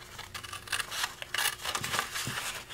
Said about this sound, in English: I can just fussy cut the little point there